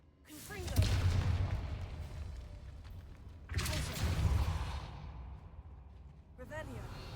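A Confringo fire-blast spell in a Harry Potter video game sets off two loud, booming explosions a few seconds apart, each rising sharply and then rumbling down, with a fainter burst at the end.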